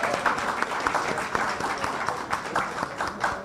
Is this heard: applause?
yes